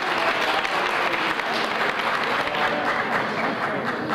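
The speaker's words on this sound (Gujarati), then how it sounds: "આપણે એકવાર એ રૂપકને વધાવી લઈએ તાળીઓ." Audience applause for a young tabla player named Rupak at a Gujarati poetry gathering, a dense, steady wash of clapping from a full room sustained evenly throughout.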